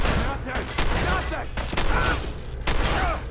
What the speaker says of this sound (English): I'm gonna go guns blazing in there with the shotgun